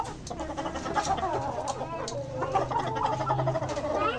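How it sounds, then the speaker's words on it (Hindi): Chickens and a red rooster cluck and chatter continuously at close range on a rooftop chicken farm, a busy overlapping flock sound with some faint background voices. "प्यारा है ये लाल मुर्गा, प्यारा है, पकड़ना नहीं है।"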